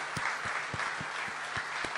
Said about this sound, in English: give all of yourselves a fantastic round of applause